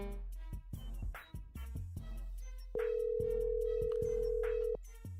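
A telephone tone sounds while a call is being placed, a steady sustained beep lasting about two seconds that follows a stretch of clicks and knocks, fairly quiet overall.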